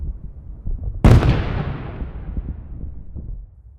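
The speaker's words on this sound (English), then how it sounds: "The bombs dropped by the drone neutralize this Russian soldier." A loud explosion from a bomb dropped by a drone onto a Russian soldier, with a sharp broadband blast followed by a long rumbling decay over low background noise.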